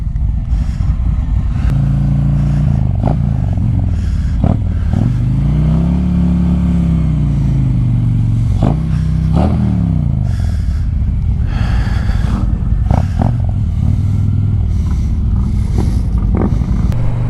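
A Harley-Davidson Road Glide motorcycle rides along, its loud engine rumbling continuously with rising and falling revs and repeated throttle blips, over steady wind noise.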